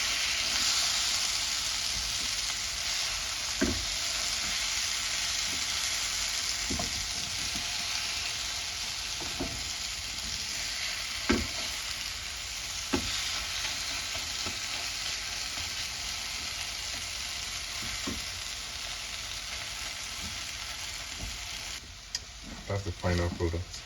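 A vegetable omelette frying in a pan after being flipped, a constant close sizzle with periodic sharp taps and scrapes of a spatula, ending in a few louder clatters.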